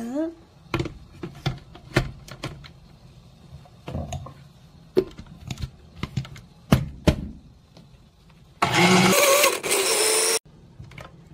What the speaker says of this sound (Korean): 이렇게 된 상태에서 이제 싹 갈아줍니다.